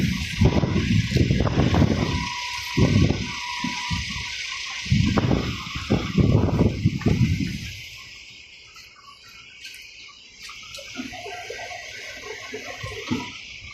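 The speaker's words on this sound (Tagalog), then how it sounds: "Sigaw yung hangin." Strong gusts of wind roar in bursts past a pickup truck on the road, then ease to a steady rush, with a high insect-like hiss running underneath the whole time.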